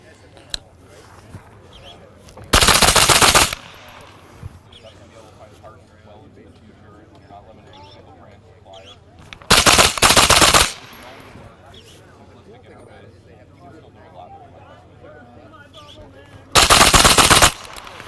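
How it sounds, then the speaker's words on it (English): Three loud, rapid bursts of gunfire from a Triumph gun being dumped into a target, each burst about a second long, separated by quieter stretches of background noise and faint talk. "show how fast you can really dump some rounds into a target in a reactionary type arrangement here"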